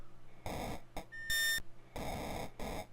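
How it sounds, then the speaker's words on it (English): Repeated electronic beeps of the low-fuel warning in the Commodore 64 game Space Taxi, sounding as a short series of loud tone bursts with an uneven rhythm and one brighter, higher chirp in the middle, with no talk. "And it's beeping at me. I suppose that's your fuel gauge."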